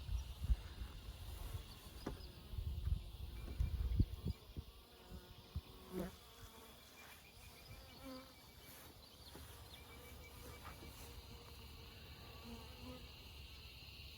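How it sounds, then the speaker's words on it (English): A calm swarm of honey bees clusters on a fence post and hums softly and steadily nearby. A few handling knocks and rustles come early, then the faint, continuous buzz carries on alone. "A lot of them around the other side, and very calm, which is pretty normal for swarms."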